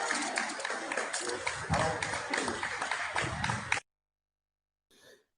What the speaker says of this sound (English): we have the Pride Patrol over there clapping